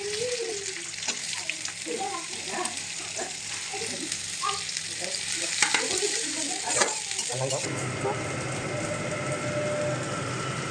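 Chopped ginger and onion sizzle loudly in a hot pan with a dense, continuous hiss. A voice runs faintly underneath for the first several seconds, then the frying settles into a smoother, softer sizzle.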